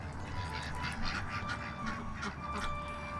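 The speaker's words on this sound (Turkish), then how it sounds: "Ne kadar sevimli hayvanlar bu ördekler arkadaşlar. Bir tane dişimiz bize ses veriyor." A female duck on a hobby farm calls in a series of repeated nasal quacks, close and fairly clear over a low steady background murmur.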